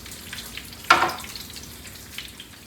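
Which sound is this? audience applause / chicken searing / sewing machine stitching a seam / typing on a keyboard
chicken searing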